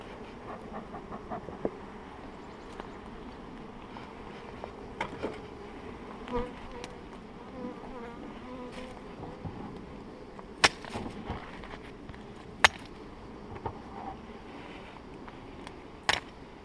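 Carniolan honeybees buzzing around a hive in a lavender field, a continuous faint drone with individual bees zipping close past now and then, quiet and outdoors with no talk.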